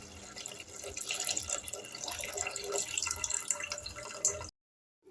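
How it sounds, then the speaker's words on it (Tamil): Rice-washing water is poured into a pot of tamarind curry with eggplant and drumstick, a steady close splashing trickle that keeps going for about four seconds and then stops abruptly into silence. "நான் அரிசி கழுவின தண்ணி தான் சேர்த்துக்கிறேன்"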